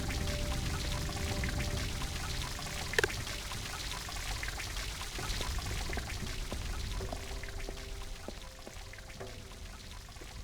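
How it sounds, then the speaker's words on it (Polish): Water poured from a jug in the adventure game Lost Horizon 2, a steady close-up pour running continuously for several seconds over a faint game soundtrack, with one brief sharp click partway through. "I'll fill the jug to the brim."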